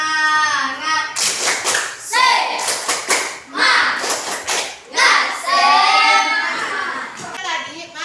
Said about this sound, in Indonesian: Tepuk semangat lagi dipimpin oleh Fadil.